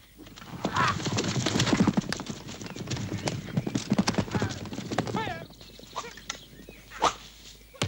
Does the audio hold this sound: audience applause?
no